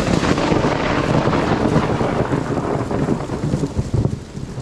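Heavy thunderstorm with pouring rain, loud and close: a dense steady wash of rain with deep rolling thunder rumbles swelling through, and a sharper crack near the end, with no voices.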